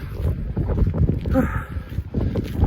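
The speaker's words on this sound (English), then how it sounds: "It's windy, but it's not raining anymore" Gusty wind buffets the microphone with low roaring rumbles that rise and fall continuously, close and loud.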